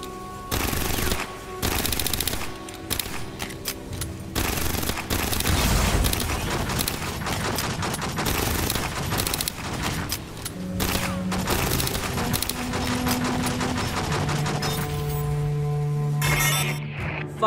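Sentry gun in Aliens: Fireteam Elite rattling off loud, sustained automatic bursts amid dense game combat noise, with alarm-like tones and booms layered through the mix.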